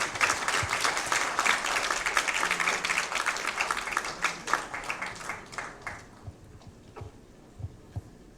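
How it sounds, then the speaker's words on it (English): Audience applause at a formal economic forum on the Philippine mining industry, a dense burst of clapping that thins out into a few scattered claps toward the end, moderately loud. "Let's give him a round of applause."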